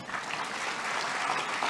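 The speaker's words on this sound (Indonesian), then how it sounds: "Tepuk tangan." Audience at a conference session clapping together, a dense, even patter of many hands sustained throughout at moderate volume.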